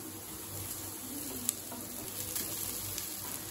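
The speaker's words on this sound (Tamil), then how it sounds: "கேரட் சீக்கிரமே வதங்கிடும், அதனால நீங்கள் லேசாக வதக்கினாலே போதுமானது." Carrots with chili powder sauté in a pan, giving a soft, steady sizzle with faint stirring sounds and one small sharp tick.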